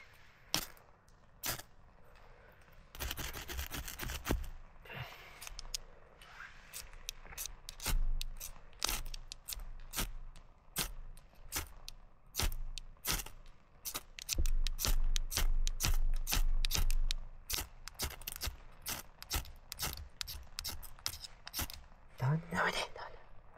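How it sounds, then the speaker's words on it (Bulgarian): Repeated sharp scraping strikes of a magnesium fire starter, irregular bursts of quick scratches, close by, with soft background sounds between. "Ние в момента почваме да си палим огън и отново ще е с магнезиева запалка и с конопче."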